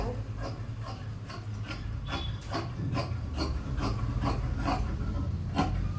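Scissors snip steadily through frock fabric, about a dozen crisp cuts in a regular rhythm, close and moderately loud over a low steady hum.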